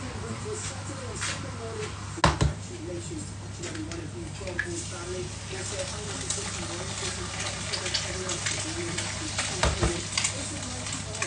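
Onion and garlic fry in a pan for fried rice with a steady, moderate sizzle and occasional stirring scrapes, a couple of louder clatters, and a voice talking over it.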